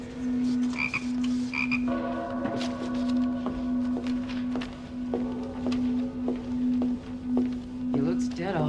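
A toad croaks in a steady low drone with pulsing calls, accompanied by other chirps and clicks in a damp outdoor setting, moderately loud and continuous.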